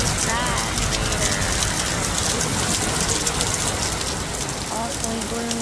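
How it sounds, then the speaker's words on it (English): Heavy rain pours steadily outdoors in Genoa or Portofino, Italy, a loud, dense hiss of drops hitting surfaces that continues without a break for the whole stretch. "raining and like crazy out here"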